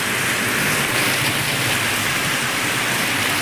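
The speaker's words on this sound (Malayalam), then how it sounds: "നല്ല മഴ" Dense, steady rain pours down in an unbroken loud hiss, close by, with no voices or other sounds.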